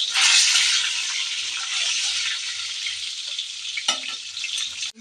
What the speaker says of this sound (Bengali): তেলের মধ্যে ডিম ভুনতে দিয়েছি।